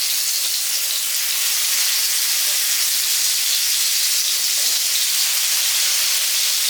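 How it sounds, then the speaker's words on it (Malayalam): Fish pieces frying in hot oil give a steady, close, dense sizzle and hiss that stays even throughout, with no voices. "ഇനി നമുക്കിത് ഓരോരോ പീസുകളായിട്ട് നമുക്ക് ഇതിൻ്റെ അകത്ത് ഇട്ടിട്ട് നമുക്കൊന്ന് ഫ്രൈ ചെയ്യണം"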